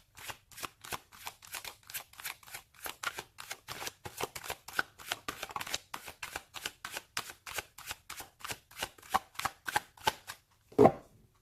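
Tarot cards are shuffled in a quick, even run of crisp riffles, about two dozen close soft slaps, ending with a single sharper snap as a card is pulled.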